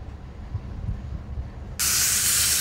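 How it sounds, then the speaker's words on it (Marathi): Hing, curry leaves and two dried chillies hit hot oil for a chutney tempering, bursting into a loud, sharp sizzle partway through after quiet kitchen rumble, then hissing steadily. "मस्त अशी खमंग फोडणी द्यायची आहे चटणीला आपल्याला"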